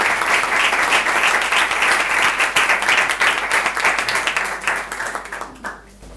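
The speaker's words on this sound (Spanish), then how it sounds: "Ella sí que se merece ese incipiente aplauso que iba a recibir." Audience applause at an academic event on decolonial knowledge, dense and loud at first, then thinning into scattered claps that fade out near the end.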